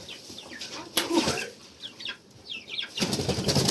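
Young chicks peep in quick, high chirps with a soft flutter of wings, several birds calling close by in short bursts.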